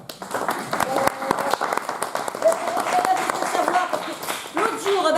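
A theatre audience applauds a medal and bouquet presentation in a French comedy show, steady clapping filling the room throughout with voices and crowd noise mixed in.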